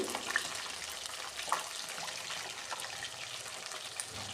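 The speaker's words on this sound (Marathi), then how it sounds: "आणि राहिलेले चिकनसुद्धा मी कढईमध्ये टाकते आणि अशाच प्रकारे मी तळून घेते" Chicken 65 pieces frying in oil in a kadhai over low to medium flame, a soft continuous bubbling sizzle that stays faint and even throughout, with no voices.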